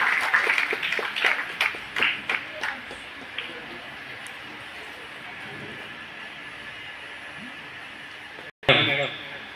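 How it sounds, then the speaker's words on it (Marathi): Scattered hand claps from an audience at a Diwali felicitation for sanitation workers in Ulhasnagar ring out sharply for a few seconds, then thin out and fade into a murmuring room, with a sudden thump near the end. "टाळ्यांचा जोरजोरात आवाज झाला पाहिजे"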